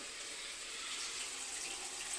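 A glass of water is poured into chicken curry cooking in a pan, a faint, steady trickling splash without any talking.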